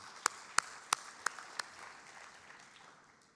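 At a conference session, the audience gives a few quiet, spaced claps, about five distinct sharp hand claps over a faint background wash that fades out.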